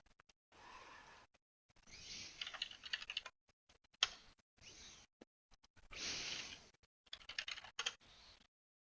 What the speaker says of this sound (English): type command.exe at the top and press enter